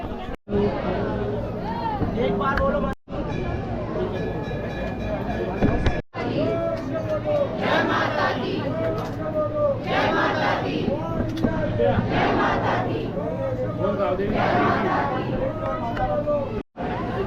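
A dense crowd waiting in a queue for the Ganga aarti fills the air with steady, close babble and chatter, with many overlapping voices and occasional brief dips in loudness.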